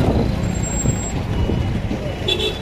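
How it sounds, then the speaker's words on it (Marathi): A vehicle reverses into a parking spot amid a crowded pilgrimage procession, with engine rumble, a short high reversing beep near the end, and voices in the background. "तर गाडी पार्किंग करायची"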